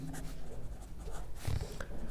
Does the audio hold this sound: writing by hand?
yes